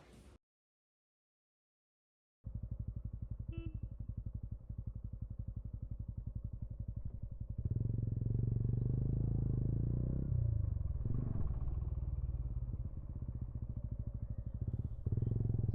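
A motorcycle on the highway from Kolkata to Siliguri, heard after a brief silence as a steady low engine drone and road rumble that grows louder and fuller partway through, with wind buffeting and no speech.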